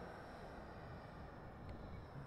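A steady, low broadband roar of an Aero L-39 jet flying at a distance, continuous and even throughout with a slight wind-like hiss.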